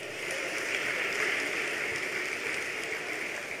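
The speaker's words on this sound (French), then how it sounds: "On les applaudit très très fort" Steady, dense applause from a crowd at the opening ceremony of the 73rd Tour Cycliste de Guadeloupe, greeting a cycling team from Capesterre-Belle-Eau; a continuous even wash of clapping with no pauses.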